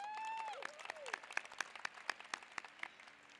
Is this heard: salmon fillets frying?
no